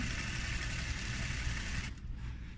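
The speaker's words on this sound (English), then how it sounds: "now you're just going to stitch all the way down" A sewing machine runs steadily, stitching a zipper in a continuous even hum with rapid needle chatter, then stops abruptly near the end, leaving a quieter tail; no talking.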